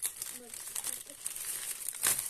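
A plastic bag holding mountain bike dirt-jump frame parts crinkles and rustles up close in bursts as the package is opened, with a brief tearing crackle near the end and a voice speaking softly underneath.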